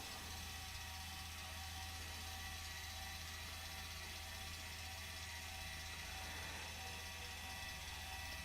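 Hemisphere power stabilizer jacks retract with a steady, loud mechanical whir and ratcheting grind that holds constant for over eight seconds, with no voices.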